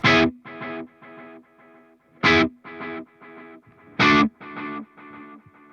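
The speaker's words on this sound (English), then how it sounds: "And you can hear the delay, right?" Three sharp electric guitar strums through a delay effect, each followed by fading repeats that echo in a steady rhythm, clean and moderately loud with no voices.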